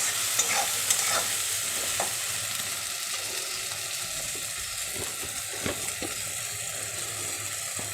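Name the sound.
ingredients being fried in a pan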